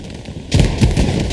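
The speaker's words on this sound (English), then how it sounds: "Grenades exploding everywhere" Grenades explode in Hell Let Loose, a World War II battle game. After a quiet moment, a heavy burst of booming blasts and crackling debris erupts, loud and close.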